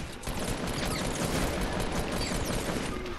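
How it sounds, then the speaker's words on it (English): Rapid bursts of automatic gunfire from the video game Fortnite, a dense, continuous fusillade of shots that fills the whole stretch at steady loudness with no talk over it. "I shot this guy like 8 times and he still had armor"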